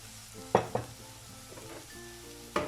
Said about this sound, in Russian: у меня здесь уже обжаривается лук и морковка